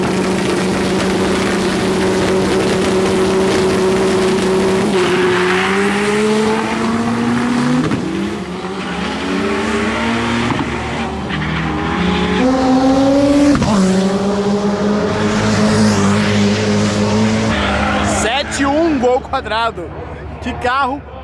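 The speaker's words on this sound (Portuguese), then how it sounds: "Que carro rápido!" Several race car engines roar loudly at a street drag race, including a turbocharged Volkswagen Beetle and a Chevette, revving up and shifting pitch as they accelerate, with a crowd murmuring and voices talking underneath.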